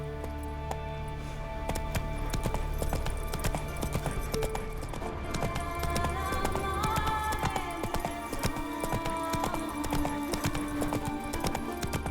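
Horse hooves clip-clopping at a steady galloping rhythm in the game The Witcher 3: Wild Hunt, with tonal game music and ambience underneath throughout.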